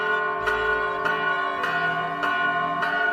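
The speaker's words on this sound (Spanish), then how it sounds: "Escucha, Antonio, ya es mediodía y las campanas nos invitan a detener un momento nuestras labores" Church bells ring at midday repeatedly in a steady rhythm, strikes about half a second apart, with a long humming resonance between them.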